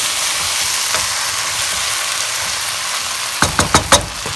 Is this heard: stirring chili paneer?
yes